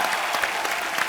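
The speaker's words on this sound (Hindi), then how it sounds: "एक बार जोरदार तालियां हो जाए इरफान भाई और जिमी बाजी के लिए" Studio audience at The Kapil Sharma Show, a Hindi TV comedy program, breaking into loud, sustained applause with a few whoops, brief and continuous.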